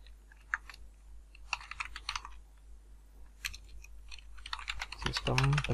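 Close, quiet typing on a computer keyboard comes in scattered bursts of clicks, growing busier toward the end, over a low steady hum.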